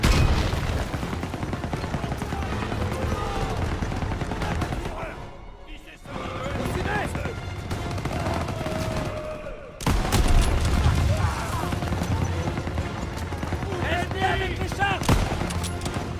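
Sustained World War II-era machine gun fire in Call of Duty WWII combat, dense and loud with bursts and brief lulls around six and ten seconds, shouting soldiers mixed into the din.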